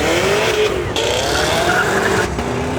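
A Toyota Supra leaving a car meet revs hard and close, engine note climbing through gear changes with brief tire squeal, loud and continuous.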